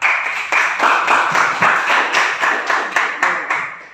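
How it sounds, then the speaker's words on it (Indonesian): A small class applauding at the end of a physics lesson, heard as rhythmic, fairly close clapping of a few pairs of hands in regular bursts, with no talking over it. "Beri aplaus dulu untuk kita semuanya."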